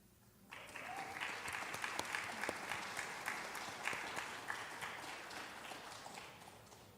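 Audience at an employee recognition event breaks into warm applause after a short quiet moment, then many hands clap steadily at moderate loudness until the end.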